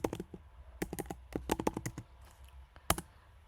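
Typing on a computer keyboard, a close, irregular patter of key clicks in quick clusters with brief pauses, alone without talk.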